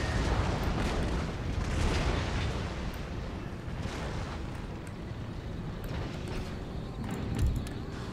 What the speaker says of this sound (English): these guys are getting shelled to hell